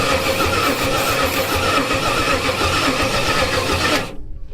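An abandoned racecar's carbureted engine, primed with brake cleaner, starts up in a garage and runs as a loud, steady, throbbing idle for about four seconds before cutting off abruptly.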